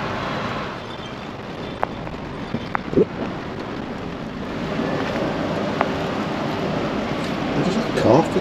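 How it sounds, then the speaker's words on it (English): Rain falls steadily outside a garage during a Classic Mini front-end rebuild. It makes a continuous broadband hiss with a few sharp knocks and faint muffled voices. "God, it's raining again."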